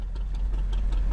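Fishing boat engine idling in the video game Ships At Sea, a steady low rumble with faint ticking running unbroken and fairly loud throughout.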